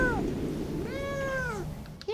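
A rescue kitten gives two or three clear, high meows, each rising and then falling, close by over a low background murmur, with a voice briefly calling to it.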